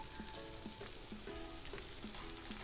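Rice frying in a pan for yellow rice gives a soft, steady sizzle with light crackles and occasional stirring scrapes, quiet and close, with no talking.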